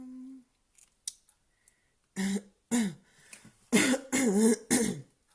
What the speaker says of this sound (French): Ça tousse ce matin